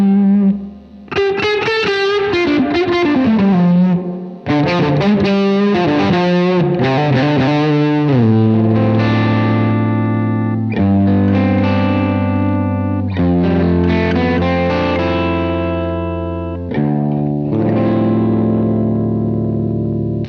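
Electric guitar played through a Flattley DG Fuzz pedal with heavy reverb and slapback, loud sustained fuzzy chords and note runs ringing out with distorted, echoing tails and brief pauses between phrases.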